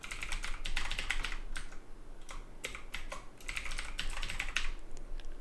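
Rapid, irregular clatter of a computer keyboard as a password is typed, keystrokes near and fairly loud, in short bursts with brief pauses and no talking.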